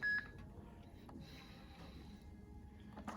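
PAX S920 card payment terminal giving a single short, high electronic beep at the start, followed by quiet room hum and faint handling sounds.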